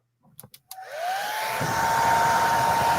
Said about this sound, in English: It's got to be a pink hair dryer too, doesn't it?